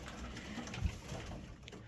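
Pigeons coo faintly and softly under a low background murmur, with a brief muffled thump partway through, in light wind.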